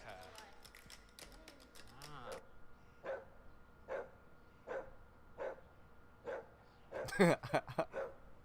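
A dog barks in a steady run of about eight sharp barks, evenly spaced and fairly close, with people talking over the first couple of seconds and a busier jumble of barks near the end.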